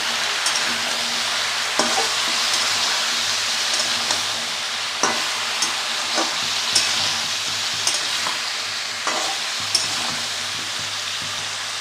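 Mixed vegetables with spinach stirred in a pan after salt and turmeric go in, under a steady, close sizzle with a spatula scraping the pan every second or two.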